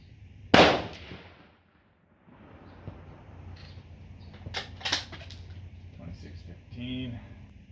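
A .308 rifle fires a single loud, sharp crack during load testing at a range, followed by a lull and then quieter background rustle and low murmuring.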